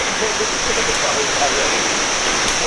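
A waterfall in Luang Prabang, Laos, pours in a constant close, loud rushing roar of running water that stays even from start to finish.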